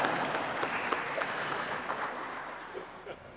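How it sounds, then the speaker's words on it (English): An audience at a talk at a business school claps in a moderate, fairly distant burst that gradually fades over a few seconds, with no one speaking over it. "You can clap."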